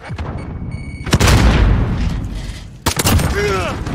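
Two heavy booms from a bomb explosion in the shooter game Modern Warfare, the second followed by rattling gunfire, with voices talking over the battle.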